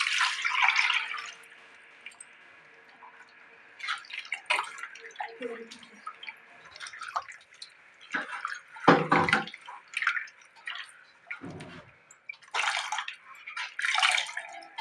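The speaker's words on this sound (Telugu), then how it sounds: "ఇలాగా ఒక చెంబు నీళ్ళు పోసుకుందాం." A pot of water is poured into a Nellore-style red pomfret fish curry, giving irregular splashing and gushing bursts separated by quieter gaps.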